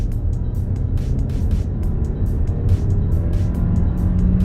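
A Mercedes A-Class engine hums and builds steadily in sport mode, heard from inside the car, a low continuous drone with road noise and occasional clicks, no voices.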